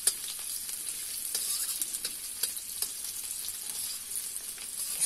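Chopped onion frying in oil in a pan while cooking a water chestnut (singhara) vegetable curry, giving a steady close sizzle with small crackles and pops throughout.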